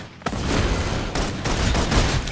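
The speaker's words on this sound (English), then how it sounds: "Requesting full suppression gunfire." Rapid bursts of gunfire in the video game Love & Deepspace, a dense, loud fusillade that begins abruptly after a brief quiet moment and continues with sharp repeated shots and booms.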